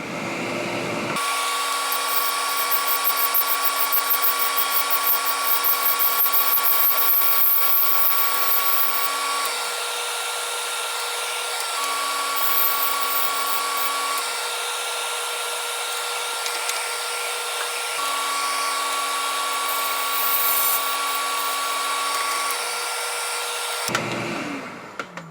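A lathe turns down a metal finial, a loud steady machine whine and hum with sustained cutting tones running in three long passes before spinning down.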